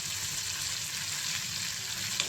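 Prawns fry for prawn 65 in a pan, a steady close sizzling hiss with occasional light stirring, no voices.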